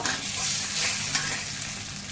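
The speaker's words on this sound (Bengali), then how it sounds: "রসুনের সাথে কিছু সময় ভালো করে এটাকে কষাবো আমি।" Fried garlic with lemon juice sautés in a pan, a loud, dense and continuous sizzle with stirring, close up and without talk.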